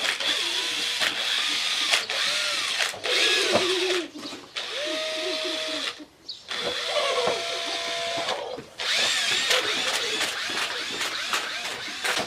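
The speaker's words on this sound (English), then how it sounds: "Drill a pinhole in there now." A power drill bores a pinhole into an old, worn-out brush mower during restoration, its motor whining in several bursts of a few seconds each with brief pauses between, close up and fairly loud.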